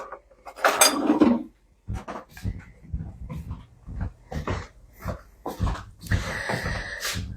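Kitchen utensils, a scraper and a garlic masher, clatter and clink in a series of short separate knocks and rattles, growing busier toward the end.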